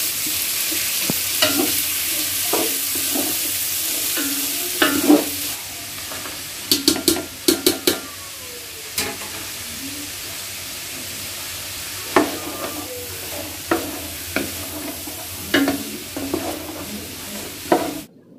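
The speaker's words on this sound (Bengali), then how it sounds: "দিয়ে দিলাম ফুলকপি আর বরবটিটা, এগুলো সেদ্ধ হতে একটু সময় লাগে, এই জন্য এগুলো আগে দিয়ে কিছুক্ষণ একটু ভেজে নিব।" Cauliflower and long beans stir-fried in a pan for fried rice, a steady sizzle broken by repeated sharp scraping clicks of a spatula against the pan, loud and close, with no talking.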